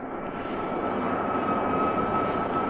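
A jet aircraft's engine roars in a steady, loud, continuous drone as the plane climbs toward 40,000 feet, a sustained broadband rumble with no voices over it.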